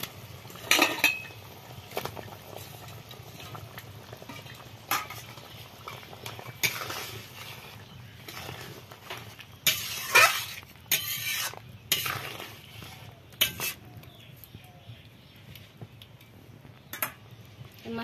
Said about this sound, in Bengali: এবার 2 মিনিটের জন্য ফুটতে দেব, যাতে মাছটা একটু নরম হয়ে যায়।